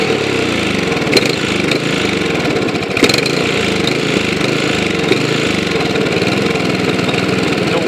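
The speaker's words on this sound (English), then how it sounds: "Seems to be a good running engine." A Briggs & Stratton OHV small engine with an overactive governor idles steadily close by, giving a loud, continuous rumbling chug with slight irregular surges throughout.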